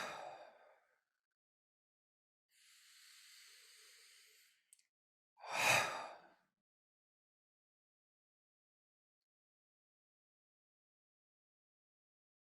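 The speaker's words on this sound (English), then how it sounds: "just take 3 deep breaths" Slow, deliberate breaths are heard close and quiet in a calm setting: a soft exhale, a gentle hissing intake, then a fuller sighing exhale, separated by silence.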